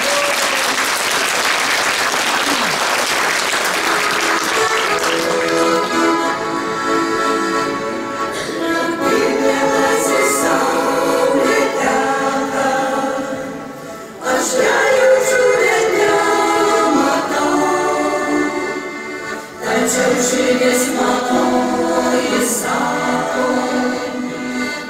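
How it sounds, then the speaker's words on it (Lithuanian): An audience bursts into dense, loud applause to welcome a women's vocal ensemble; the clapping fills the first few seconds, then fades as the group's tonal singing and music take over. "Pasitinkam plojimais."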